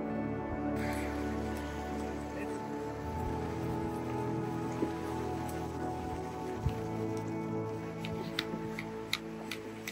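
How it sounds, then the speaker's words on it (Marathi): Steady rain patters on a tent and surroundings at a dam-side campsite, a dense continuous hiss with occasional sharper drips and ticks standing out, with no talk. "पाऊस आला लवकर."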